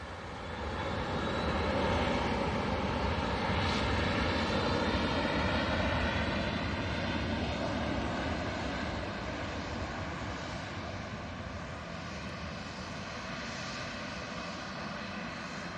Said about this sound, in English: And we've also got the KLM. That's just crossing over 23 right as we speak.